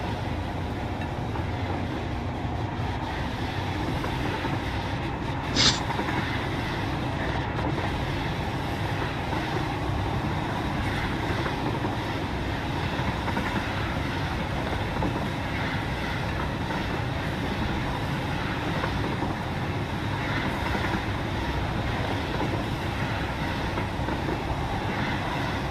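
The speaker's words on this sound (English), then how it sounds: "Train goes at a pretty good clip over them" A train running on rails in the Satisfactory video game, a steady rumbling roll with a continuous low drone, one brief sharp click near the middle, and no talk.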